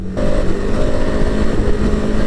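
A 2021 KTM Super Adventure motorcycle engine pulls hard and steady at close range, its loud, rough drone shifting slightly as the quick-shifter snaps through a gear change, with wind noise over it and no voices.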